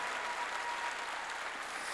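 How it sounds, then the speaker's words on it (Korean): A church congregation applauds to glorify God, a faint, distant, continuous patter of many hands clapping without a break. "박수로 하나님께 영광 돌리고"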